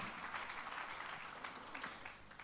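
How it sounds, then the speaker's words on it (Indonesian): A church congregation at a Sunday service applauds, a soft, continuous patter of many hands heard from some distance at a low level. "Berikan tepuk tangan, haleluya."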